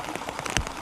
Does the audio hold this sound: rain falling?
yes